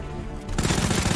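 Rapid automatic gunfire in the Resident Evil 2 video game, a quiet lead-in followed by a sudden, loud burst of close, fast repeated shots that continues to the end.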